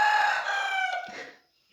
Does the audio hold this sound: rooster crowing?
yes